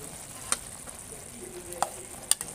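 Boiled bamboo shoots stir-fried in a pan for a red curry pork dish: a quiet, soft sizzle broken by three or four sharp spatula clicks against the pan, close and spaced irregularly, with no talking.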